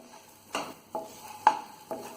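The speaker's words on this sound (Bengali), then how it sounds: "একটু ভালো করে লাল লাল করে ভেজে নেব।" Tomatoes frying in a pan for homemade tomato sauce, with four quiet, separate spatula scrapes and stirs spaced about half a second apart, a faint sizzle beneath them and no talking.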